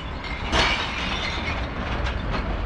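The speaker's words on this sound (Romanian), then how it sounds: "Vine și tramvaiul." A tram passes on city rails, a steady broadband rumble with a brief louder swell near the start and faint rolling clatter, heard from street level with no talk.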